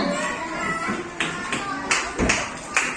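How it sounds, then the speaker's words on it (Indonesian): A classroom of students claps, giving scattered, uneven hand claps that grow into a few sharper bursts, with a voice talking underneath. "Beri tepuk tangan."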